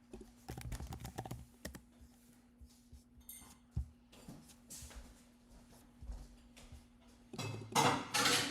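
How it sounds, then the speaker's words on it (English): Typing on a computer keyboard: a fast flurry of close key clicks, then sparse, quieter taps and a denser clatter of keystrokes at the end. "I think I'm typing something wrong here."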